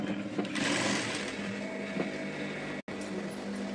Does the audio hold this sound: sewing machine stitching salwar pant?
yes